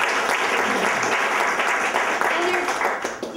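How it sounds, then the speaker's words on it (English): Audience applause at a Wellness Day event, a dense steady wash of clapping filling the room for several seconds, loud and sustained with a few voices mixed in. "So I really just want to give them a round of applause."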